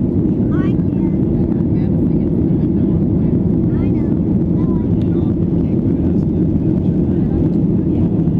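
An airliner climbing out after takeoff from Phoenix Sky Harbor, heard from inside the cabin as a loud, steady engine and air roar that never lets up, with faint voices beneath it.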